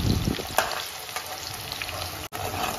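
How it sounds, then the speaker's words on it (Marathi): Onions fry in oil with cumin, browning toward golden, a close crackling sizzle with a few sharper pops and brief stirring scrapes, no voices. "कांदा आपण पूर्ण खरपूस करून घ्यायचा, म्हणजे ब्राऊन करून घ्यायचा"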